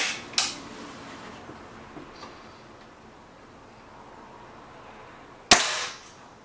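A Webley VMX Quantum air rifle fires two sharp, close cracks several seconds apart, the first near the start and the second near the end, with quiet room tone between.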